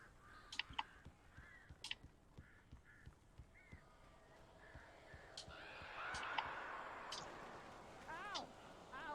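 Crows in the video game Alan Wake give several harsh caws scattered through a low, rustling background, some fairly close and others farther off.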